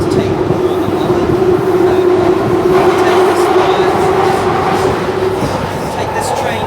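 A London Underground Northern line train rumbles loudly and steadily close by with a sustained hum and rattle, the din easing slightly toward the end.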